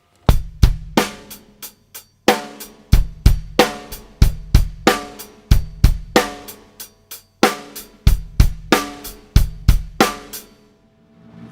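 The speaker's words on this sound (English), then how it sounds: "It's fast eighth notes on the hi-hat" A drum kit plays a groove of fast eighth notes on the hi-hat with bass drum hits, a close, steady rhythmic pattern heard alone.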